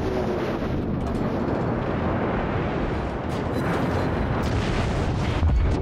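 Naval gunfire and shell hits in the World of Warships video game, a dense continuous roar of booming blasts and rumbling explosions, loud and sustained without speech.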